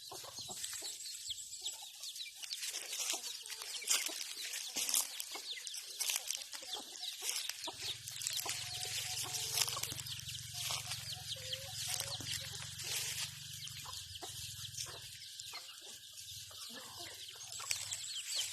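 Chickens cluck and chatter nearby in uneven bursts, with occasional louder squawks and a low rumble partway through.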